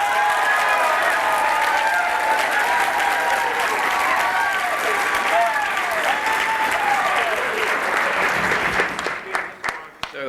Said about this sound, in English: Please restrain your applause to the extent you can.